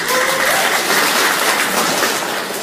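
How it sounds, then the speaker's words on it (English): A crowd at a corporate awards presentation claps in a steady round of applause, a thick, even patter of many hands that holds for a few seconds and tapers slightly at the end. "So I think that's worth a round of applause."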